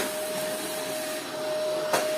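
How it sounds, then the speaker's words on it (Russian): A vacuum cleaner drones steadily close by with a constant whine, with a brief louder bump near the end and no talk. "пылесосит"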